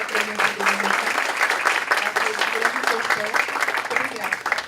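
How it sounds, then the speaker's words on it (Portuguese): Audience applause at a conference opening session, dense and continuous, with voices audible underneath the clapping. "Eu queria uma salva de palmas para a nossa mesa"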